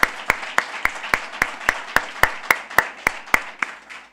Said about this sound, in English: I would like to ask you to join me in clapping for them and for the tech space.